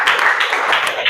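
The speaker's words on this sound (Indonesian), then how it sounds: "Kasih tepuk tangan dulu untuk kelompok 1." Applause for the first student group in a classroom, a dense burst of many hands clapping close by for just over a second, loud and steady with no talk over it.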